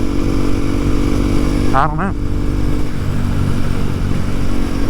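A Harley motorcycle engine drones steadily while riding, with wind rush mixed in and someone briefly speaking over it.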